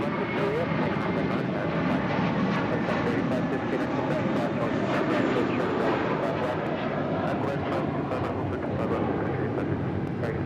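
An American Airlines Airbus A321 jet departs Los Angeles International Airport, a loud, steady roar of engine noise that holds for the whole stretch with no pause.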